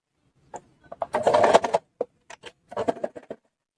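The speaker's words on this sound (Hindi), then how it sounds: "देखिए इस तरीके से आपने बीच में सिलाई लगानी है।" A sewing machine stitches a salwar belt in short rapid bursts, with a sustained run of needle chatter in the middle and several brief stitching spurts after it, close and clear with no talk.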